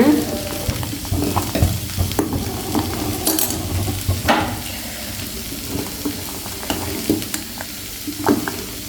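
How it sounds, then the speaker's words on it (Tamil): A pot of mor kuzhambu (buttermilk curry) bubbles and sizzles steadily on the stove, with scattered clinks and stirring knocks over the simmering sound. "நல்லா வந்து கொதிக்குது பாருங்க"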